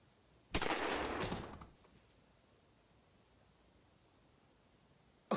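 Gunfire goes off during a prank: one loud, close burst of shots lasting about a second near the start, then near-silence, with a faint click at the end.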